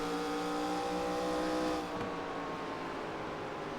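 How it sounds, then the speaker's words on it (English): A race car in the iRacing game at Bristol drives deep into a corner, its engine note dropping sharply as it brakes hard, engine drone steady then cutting down midway, with no talk over it. "8 car really driving in deep and getting heavy on the brakes, it sounds like"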